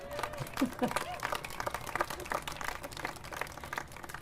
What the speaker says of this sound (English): So I want to clap for that.